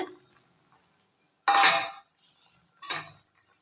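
Cauliflower pieces tumble into a pot of coconut-based kurma with two sharp clattering bursts, pot and utensil clinks ringing close and clear between brief pauses.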